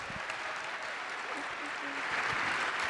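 An audience at an evening book event for author Doris Kearns Goodwin gives her a round of applause, a steady wash of clapping that fills the room and holds throughout.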